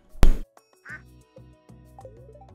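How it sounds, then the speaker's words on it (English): Ducks in a farming video game quack in a short series after a sharp opening click, with several close, nasal calls spaced unevenly over a couple of seconds. "Creating two ducks just because they're cute."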